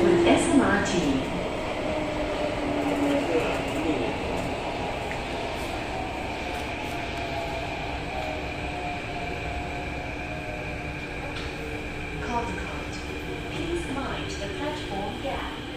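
A Singapore MRT Thomson-East Coast Line train running between Woodlands and Caldecott hums and rumbles steadily from inside the carriage, with rising motor whine and faint tonal chimes throughout.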